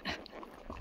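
A dog whimpering outdoors: short, soft whines and faint yips in quick succession, close but not loud, with light background noise.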